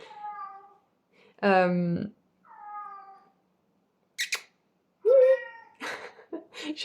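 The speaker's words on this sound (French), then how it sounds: "Il y a le chat qui vient de miauler." A cat meows several times indoors, close and fairly clear, with drawn-out plaintive calls and one louder caterwauling cry, separated by short silences and followed by a few quicker sounds.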